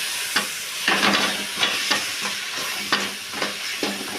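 Coriander and mint leaves being stirred in a frying pan while making chicken curry, a steady hiss of frying under repeated scraping strokes at an uneven rhythm, close by, with no one talking.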